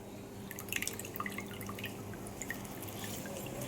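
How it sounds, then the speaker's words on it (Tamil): Drumstick leaves are washed in water, giving soft scattered drips and small splashes over a low, steady background, quiet and close, with no voices. "அதுக்கு தான் இந்த மாதிரி கழுவிடணும் முருங்கைக்கீரையும்"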